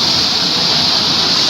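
Floodwater rushes through a breached culvert under a road beside farm fields, making a loud, steady roar close by with no pauses.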